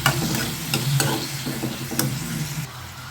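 Cut tomatoes frying in a pan for cauliflower masala, with a dense, close sizzle and repeated spatula scrapes and knocks against the pan throughout.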